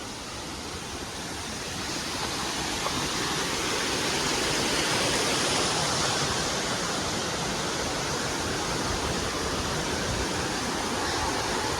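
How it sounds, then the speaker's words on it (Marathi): Varasgaon waterfall roaring as a dense, continuous rush of falling water that swells slightly early on and then holds steady and loud, with no voices. "आणि हा वॉटरफॉल आहे वरसगावचा"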